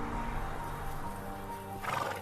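Horses on a farm whinnying and neighing, with hooves clip-clopping underneath; a louder neigh rises near the end over steady background noise.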